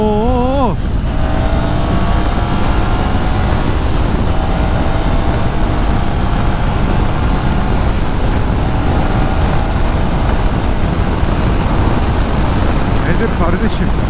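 A Triumph Tiger 900 Rally Pro three-cylinder motorcycle being ridden, its engine droning steadily with rising and falling revs under loud wind rush for the whole stretch.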